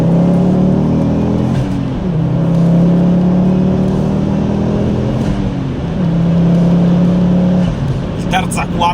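A Ford Focus RS Mk2 five-cylinder engine on 19-inch wheels with lowered suspension pulls hard, its loud humming drone rising and falling through gear changes, with someone talking over it.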